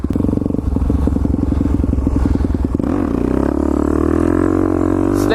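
A supermoto or pit bike engine revs hard and steadily during a burnout, loud and close, its tone shifting partway through as the pitch drops and smooths out.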